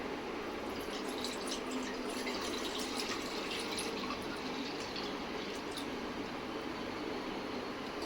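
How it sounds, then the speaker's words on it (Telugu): One litre of milk pouring from a height into a pan on a stove, a steady continuous liquid stream running evenly and moderately near throughout, with no voices over it. "1 లీటర్ పాలు పోసుకోవాలి"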